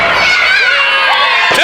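Wrestling crowd at a live event cheering and shouting, a dense burst of excited voices and high-pitched yells from a mix of kids and adults, loud and continuous.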